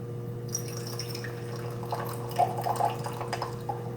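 Rinse water poured out of a gaiwan holding White Peony white tea leaves, heard as faint trickling and dripping splashes with a couple of brief louder drips over a steady low hum.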